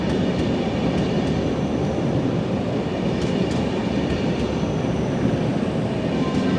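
A ČD Railjet passenger train runs out of Prague with a steady, loud rumble heard from inside a carriage, with faint rhythmic clicks from the wheels over the rail joints.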